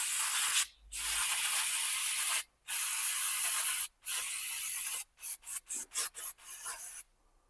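Aerosol sensor cleaner hisses from a spray can in several long steady bursts, then a run of short quick spurts, close and alone.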